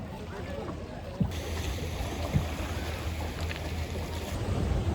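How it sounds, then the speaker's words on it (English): A speedboat crosses open sea toward Elephanta Beach at Havelock in the Andamans, its engine a steady rumble mixed with wind and water noise, a couple of thumps as the hull hits waves. "we are now on our way to Elephanta Beach via a speedboat."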